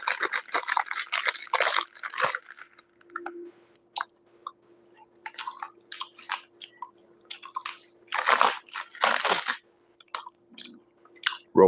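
Close, wet chewing of candy bites, with irregular crunching and squishing bursts and quiet gaps between, heard alone.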